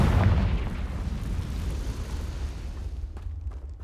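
Confringo fire spell blast in Hogwarts Legacy: a deep booming burst that rolls out into a long fading rumble, loud at first and then dying away, with no talking.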